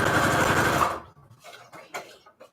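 Sewing machine stitching paper strips onto a tag, a loud close whirring run that stops abruptly after about a second, followed by a few faint clicks and handling sounds.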